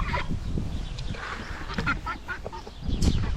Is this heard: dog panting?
no